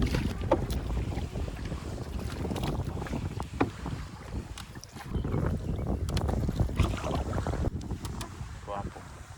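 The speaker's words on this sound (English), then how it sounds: "The wind is against us. It's really hard to paddle." Strong wind buffets the microphone while a canoe is paddled on a lake in Algonquin Park, with steady gusty rumble and scattered splashes and knocks throughout and no clear talk.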